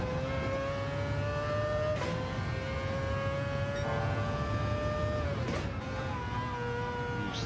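Racing car engine of the RX Vision GT3 in Gran Turismo 7 on the Nürburgring GP circuit, a steady loud drone whose pitch climbs and drops through gear changes, with brief shifts around each upshift.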